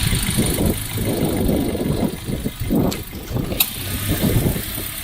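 A 2019 Toyota Rush with automatic transmission idles steadily, its low engine hum close and continuous, with a few faint clicks and a brief high tick near the end.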